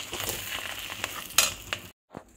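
Fish roe and fish swim bladder frying in hot oil in a pan, a close, fairly quiet crackling sizzle with a few sharper spatters and stirring clicks before it cuts off abruptly.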